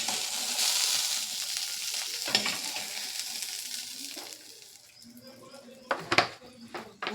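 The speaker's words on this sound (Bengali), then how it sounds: "দুটো আলু কিন্তু ভালো করে এই তেলের মধ্যে ভেজে নেব" Two cut potatoes fry in oil, a soft hissing sizzle with occasional clinks and shuffles of a utensil, fading lower toward the end before a few sharper knocks.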